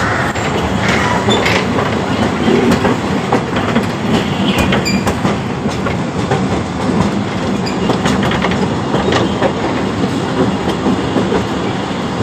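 A Fantasy Kingdom amusement park train rolls on its rails with a loud, steady rumble, rhythmic clickety-clack of the wheels and occasional squeals, heard from on board.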